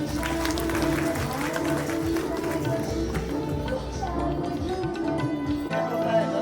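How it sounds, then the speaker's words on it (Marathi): Audience applause at a diamond jubilee celebration event, a sustained wash of clapping from a crowd with mixed voices underneath, steady and fairly loud throughout. "सर्व मान्यवरांसाठी एकदा जोरदार टाळ्या होऊ द्या।"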